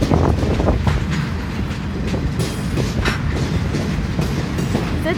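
A BNSF freight train rumbles past close by, heavy low roar with rhythmic clattering of wheels over rail joints, steady and loud throughout.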